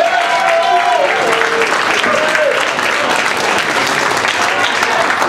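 A comedy club audience applauds a comedian, with loud, dense clapping and some cheering that stay steady throughout.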